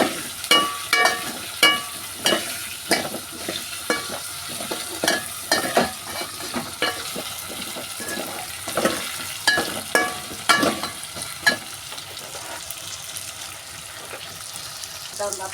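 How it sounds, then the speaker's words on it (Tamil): Ingredients for a tapioca curry sauté in oil in a pan, with a steady rhythm of spoon scrapes and clinks against the metal over a soft sizzle, close and alone without talk. "வதக்கிடுங்க."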